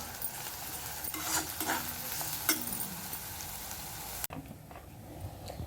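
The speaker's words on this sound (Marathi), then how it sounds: "कांदा आपण चांगला लाल रंगाचा होईपर्यंत परतून घेणार आहोत" Onion sautéing in a pan with oil, a continuous crackling sizzle punctuated by scraping stirs, cutting off abruptly near the end to a much quieter hiss.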